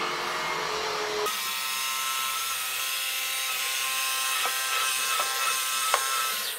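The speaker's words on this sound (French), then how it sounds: "donc là, on va faire un test d'aspiration dans les coins" Cecotec Conga Rockstar stick vacuum cleaner running with its main brush while cleaning corners, a steady loud whirring drone that starts abruptly after a quieter lead-in, with a few brief clicks and scrapes near the end.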